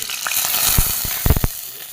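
Plain rice frying in about two tablespoons of oil in a pan, giving a steady close sizzle with several sharp crackling bursts near the end.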